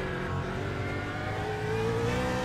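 BMW GT3 race car in the iRacing sim at Oran Park, engine droning steadily at mid revs with a rising whine as the throttle rolls on, continuous and close throughout.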